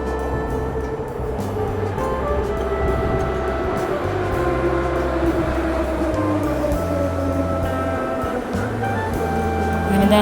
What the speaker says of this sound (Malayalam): നമ്മുടെ ട്രെയിൻ എത്തി.